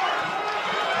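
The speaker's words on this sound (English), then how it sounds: "Crowd urging him on." Arena crowd at an MMA event roaring steadily to urge a fighter on in the closing seconds, a dense continuous wash of cheering with no break.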